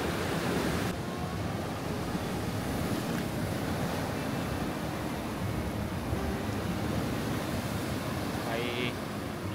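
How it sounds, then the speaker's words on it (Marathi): Large sea waves crash onto the shore at Harihareshwar beach, making a steady, loud broadband roar of surf with wind buffeting the microphone throughout. "तिकडनं मोठ्या लाटा आहेत एकदम"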